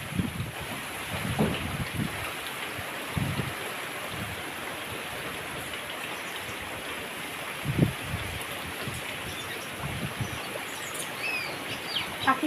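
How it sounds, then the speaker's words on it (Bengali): Strong gusting wind and rain of Cyclone Remal roar steadily around a house, with occasional louder gusts and faint bird calls. "হাওয়ার আওয়াজ শোনো, ঘরের আওয়াজ। এটা হলো রুমালের তাণ্ডব।"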